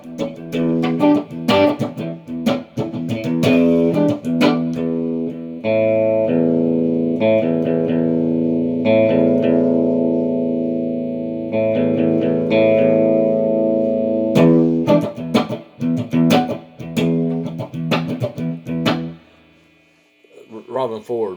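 An electric guitar, a Stratocaster with its volume knob backed off, played through effects with reverb and chorus: rhythmic chord strums, sustained ringing chords, and bursts of choppy strumming, loud and close, no talk.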